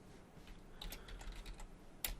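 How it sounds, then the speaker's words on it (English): Quiet, rapid clicking of a computer keyboard being typed on while building web page routes and views, with one sharper keystroke near the end. "if we start typing"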